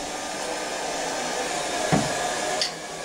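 A heat gun runs continuously at close range, blowing a steady loud whooshing hum as it warms the covering film on an RC plane wing to peel it off.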